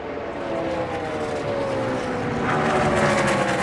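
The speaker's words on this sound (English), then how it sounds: "you can hear these guys well out of the throttle now as they have put a few laps on these tires" ARCA stock cars at Kansas Speedway lifting off the throttle, a loud, steady engine roar with a pitch that drifts downward, then swells again near the end, with no voices.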